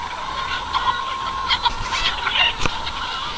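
Pasture-raised chickens cluck and squawk in a busy flock, several short calls overlapping at close range over a low farmyard background.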